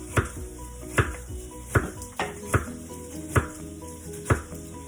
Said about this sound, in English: So we get a nice crinkle cut for our carrots here.